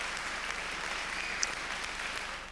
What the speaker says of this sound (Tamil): நர்மதா அவர்களுக்கு கரகோஷம் கொடுத்து வாழ்த்து.